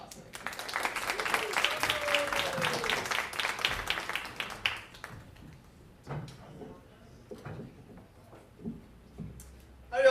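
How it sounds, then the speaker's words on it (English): Applause from a small open-mic comedy crowd at The Hot Spot in Waynesboro, Virginia, as a comedian is brought on, a few seconds of clapping that fades out and gives way to quiet room noise and scattered knocks. "Please give a warm round of applause for my brother,"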